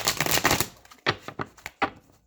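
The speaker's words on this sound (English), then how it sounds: "One more shuffle, and then we're going to get 2 clarifying cards." Tarot cards shuffled by hand give a dense papery riffle at first, then a few separate crisp taps and slaps as the deck is squared, close and clear with no talking.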